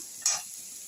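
Garlic dropped into hot oil with fried elephant foot yam, one quick burst of sizzle and a stir over a steady background hiss.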